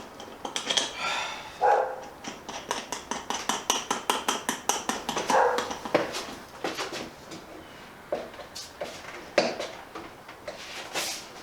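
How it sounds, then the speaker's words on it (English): Several dogs barking in a burst of repeated, fairly loud barks that come in clusters over the whole stretch, with some clattering mixed in. "Oh good, more dogs."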